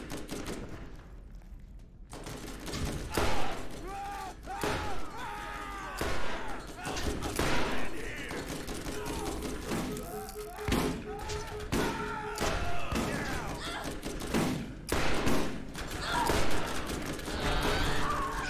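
Shotgun blasts and other gunfire ring out in the video game Borderlands, several loud bursts scattered across the stretch while players talk and shout over the action.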